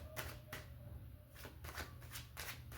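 Tarot cards being shuffled in several quick riffling bursts, close up, with soft pauses between them and no voices.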